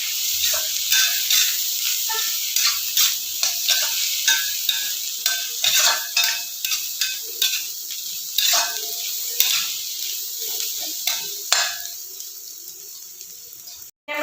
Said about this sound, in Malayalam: ഇതിലേക്ക് നമുക്ക് പൊടി ചേർത്ത് കൊടുക്കാം കേട്ടോ ഒരു രണ്ട് ടേബിൾ സ്പൂണോളം ചേർത്ത് കൊടുക്കുന്നുണ്ട്